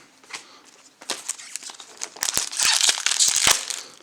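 A Magic: The Gathering Ikoria booster pack wrapper being torn open, close crinkling of foil plastic that builds into a loud tearing rustle, with no talk.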